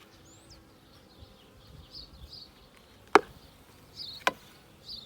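Honeybees hum faintly during a beehive inspection while two sharp knocks from handling the hive break through the soft buzzing, which stays close but quiet throughout.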